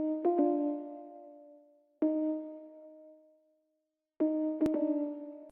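Sustained electric keys chords for a dark trap sample play in three separate hits, each ringing out and fading slowly before the next, clean and isolated with soft tonal harmonics.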